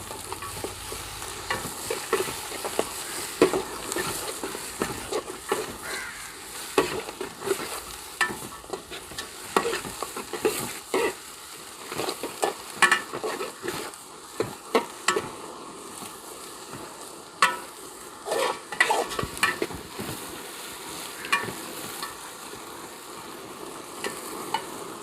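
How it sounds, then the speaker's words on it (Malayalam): Small shallots stir-fried in a pan as the base for a Kuttanadan-style duck curry, with a busy run of spatula scrapes and clacks over continuous sizzling, close and sustained with no talking. "ചെറിയ ഉള്ളി ഒന്ന് നന്നായിട്ട് വാടിക്കോട്ടെ."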